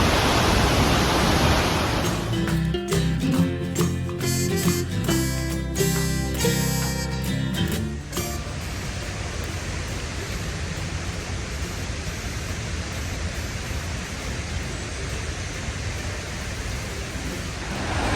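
Virgin Falls in Tennessee roars as a loud, steady, broadband rush of falling water, constant and close throughout, with a brief patch of other tonal sound mixed in early on.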